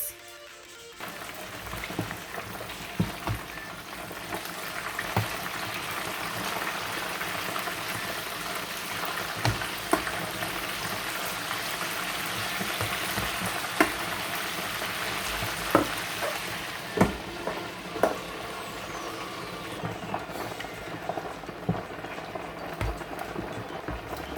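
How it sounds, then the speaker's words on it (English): Tomatoes frying in a pan for a stew give a steady broadband sizzle throughout, with occasional sharp pops and spatters standing out above the continuous crackle. "I'm going to be frying the tomatoes."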